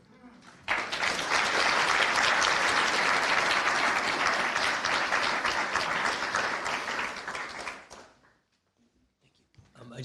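A lecture audience bursts into loud, sustained applause after an academic talk on AI, a dense wash of clapping lasting several seconds before cutting off abruptly into near silence.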